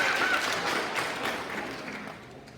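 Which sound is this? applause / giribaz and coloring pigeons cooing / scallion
applause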